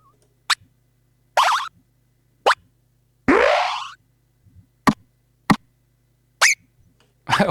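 AI-generated cartoon-style sound effects: a string of separate pops, plops, boings and a longer swooping slide, each short and punchy with clear silence between them, loud and close, and no talk.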